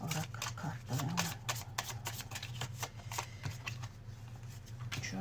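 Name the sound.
oracle cards being spread out for a reading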